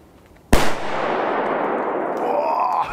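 A single sharp Hua Liang firecracker bang, set off standing upright, cracks loudly and is followed by a long rumbling, hissing decay that fills the rest of the moment.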